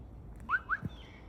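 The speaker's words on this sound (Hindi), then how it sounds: "चिड़ियों की आवाज़ अगर आप सुन रहे हैं" Two short rising bird chirps ring out close together in Tualatin Hills Nature Park, Beaverton, over faint background hum and a low thump, with no one talking.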